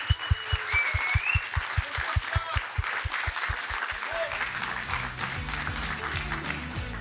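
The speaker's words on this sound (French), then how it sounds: "Eh bien, on applaudit Mathieu pour cette superbe organisation." Audience applause closes an evening contest of short thesis presentations. Steady, dense clapping fills the whole stretch and sits over low rhythmic thumps early on, with a faint voice or two in the background.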